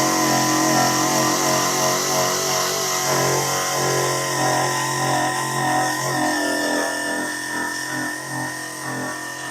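A Sunex Surface Blaster abrasive tool strips paint from metal with a steady, loud whirring drone and gritty high hiss, running continuously and close without pause.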